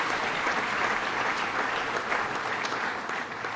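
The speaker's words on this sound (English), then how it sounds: "Let's give her a round of applause" At the 2014 Adirondack Challenge awards event, an audience gives a steady, dense round of applause for a senator receiving an award, clapping fills the room evenly.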